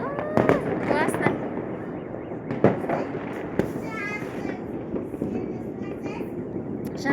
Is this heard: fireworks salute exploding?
yes